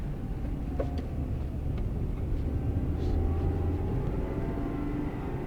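From inside a moving 90s Honda Civic, the stock exhaust gives a steady low rumble under road and cabin noise, with a few faint clicks and knocks and no voices.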